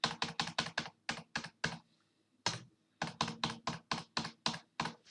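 A password tapped out on a computer keyboard, a quick close series of crisp key clicks, one brief pause, then another steady burst of keystrokes.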